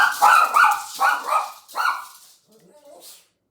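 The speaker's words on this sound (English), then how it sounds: "Sorry if you're going to hear my dog bark" A pet dog barks several times in quick succession close by indoors, sharp loud woofs followed by a quieter whimper and a faint trailing yip.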